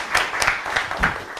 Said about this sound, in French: New York, applaudissez.